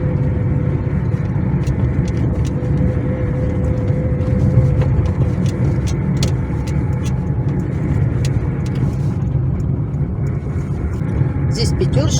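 A car drives along a village road in spring, its steady low road rumble and tire noise continuous under intermittent talk from inside the vehicle.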